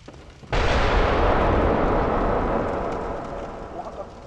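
A sudden loud cannon boom from Bloodborne bursts in, followed by a long rumbling roar that slowly fades, with a few faint crackles near the end.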